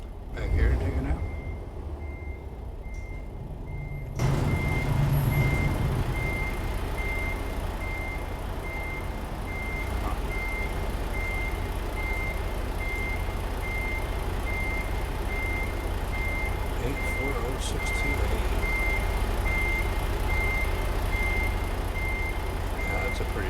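A truck backs up with a steady series of evenly spaced reversing beeps over a continuous low engine rumble, heard from close by, while a voice talks briefly at the start.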